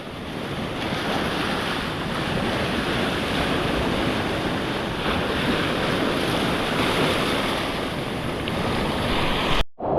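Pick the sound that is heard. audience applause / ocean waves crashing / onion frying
ocean waves crashing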